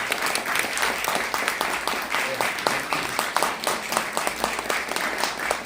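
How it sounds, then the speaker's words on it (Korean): A crowd claps to welcome a speaker, a former navy chief of staff, to the stage at a book concert. The applause is steady and moderately loud, with sharp individual claps standing out. "박수로 맞아주시면 감사하겠습니다"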